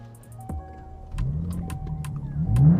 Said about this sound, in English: I cannot wait to hear the sound of gasoline burning inside a true American muscle V8.